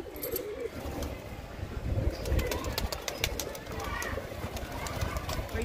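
Pigeons let out of their coop onto a rooftop in the evening, with a steady murmur of cooing and soft chirps, faint wing flutters and background voices throughout.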